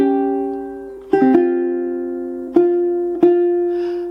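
The jazzy fingerstyle ukulele ending of a jazz piece, played at steady tempo without slowing, comes as a few plucked notes and chords at a close, moderate level, each ringing out and decaying with no voices.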